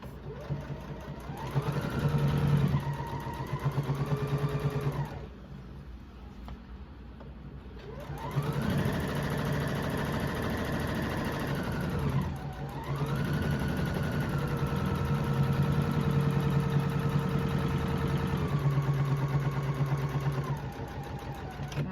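A sewing machine stitches the casing for an apron strap in bursts of steady motor whirring, each run rising and falling in pitch, with a brief pause in the middle, close and clear.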